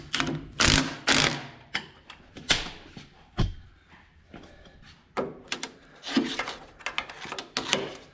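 Bolts are tightened with a ratchet while a transaxle is fitted on a Steiner 230, giving irregular bursts of clicking and clanking metal separated by short quiet gaps.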